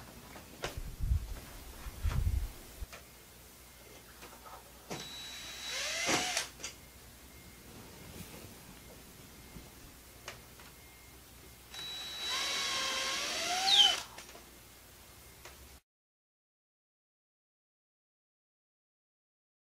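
A drill drives drywall screws to fasten an aluminum frame header into drywall, two separate whirring bursts of a few seconds each, with a few light knocks and handling thumps in between and no talking.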